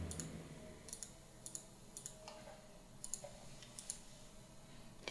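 Faint, sharp computer mouse clicks, about a dozen spread irregularly over a quiet room background, some in quick pairs, each a brief dry tick.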